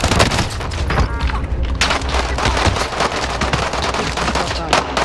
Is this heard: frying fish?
no